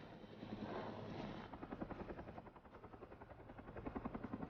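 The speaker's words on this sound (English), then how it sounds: "Hovering over a magnificent forest in the Pacific Northwest, a helicopter pilot readies to airlift 100-foot logs" A helicopter hovering over a Pacific Northwest forest during log airlifting, its rotor chopping in a steady rapid pulse over a broad engine roar, fairly distant and faint.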